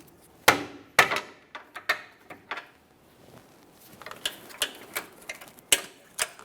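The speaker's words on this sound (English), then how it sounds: "To break this free, I'm just going to use a long pry bar and a hammer." Sharp metallic taps ring out irregularly, close and distinct, some single strikes and some quick clusters of lighter knocks with short pauses between, as a hammer strikes a long pry bar against a steering rack bellow clamp on a 2010-2013 Kia Forte Koup.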